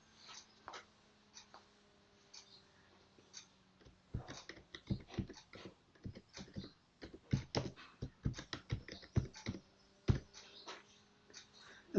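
Someone types a name on a computer keyboard, with a quick run of soft, close key taps in irregular bursts, faint and without talk.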